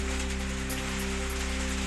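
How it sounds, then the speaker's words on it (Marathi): Heavy unseasonal rain with hail pounding down in Akkalkot, Solapur, a steady dense patter with a constant low hum beneath, no voices. "सोलापूरच्या अक्कलकोटमध्येही गारपिटीसह मुसळधार पाऊस"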